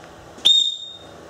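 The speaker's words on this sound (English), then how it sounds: "On the back here is your whistle. Let's hear how it sounds." A whistle built into the back of a Life Gear Sport multi tool gives one short, loud, shrill blast that fades quickly, heard alone in a quiet room.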